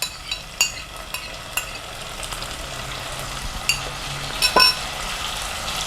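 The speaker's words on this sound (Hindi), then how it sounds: "चार 5 मिनट हो गए लहसुन अदरक को भी भूनते हुए। अब हम टमाटर मिला देंगे।" Tomatoes frying in a pan with garlic and ginger for a vegetable kofta curry, giving a steady soft sizzle with occasional stirring clinks and scrapes throughout, no voices.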